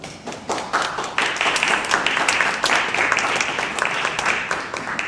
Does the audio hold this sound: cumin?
no